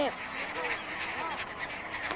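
Great black-headed gulls, goose-sized, calling in a colony on a sand strip in the Caspian Sea, a busy chorus of many overlapping honking, laughing cries at moderate distance, continuous throughout.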